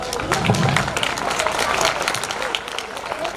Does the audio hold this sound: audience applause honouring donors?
yes